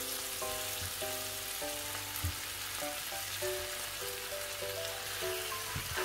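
Fried chicken breast pieces hit hot achari masala in a pan and sizzle steadily and loudly throughout, with faint spoon and pan noises underneath.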